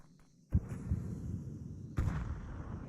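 A grenade blast in a first-person shooter, heard as a sharp close burst followed by a rumbling tail, then a second loud explosion about a second and a half later, with low crackling debris between.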